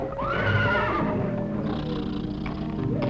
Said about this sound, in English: Oh, yes, and this is my horse, Trigger.